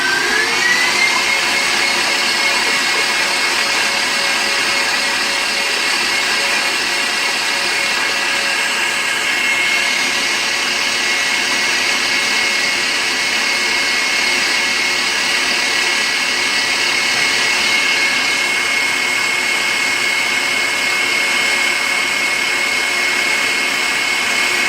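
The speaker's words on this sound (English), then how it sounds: "here's my KitchenAid mixer. I'm going to turn it up all the way" A KitchenAid stand mixer whips eggs at full speed, a loud, steady high-pitched whirring drone that continues unbroken and close by.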